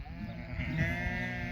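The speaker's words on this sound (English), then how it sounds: "There's the lambs." Weaned lambs, about three months old from a shedding-sheep flock, bleat in a field; several overlapping calls ring out steadily at moderate distance over low wind-like rumble.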